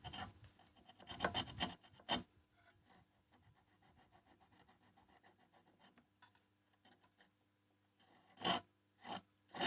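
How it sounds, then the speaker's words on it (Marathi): Steady rasping strokes of motor starter coil rods being rubbed clean, a close, quiet scraping rhythm with a few louder bursts at the start and end. "तिन्ही पण रॉडला काय करायचं असं घासून घ्यायचं एकदम क्लीन"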